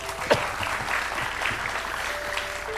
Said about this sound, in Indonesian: Kasih tepuk tangan sekali lagi buat Jess